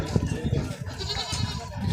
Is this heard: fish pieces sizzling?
no